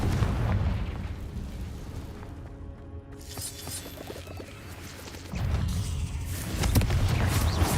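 In the Hogwarts Legacy video game, a Confringo spell bursts with a loud, heavy blast and rumbling crash, then fades into a quieter ringing lull before another booming impact swells back in.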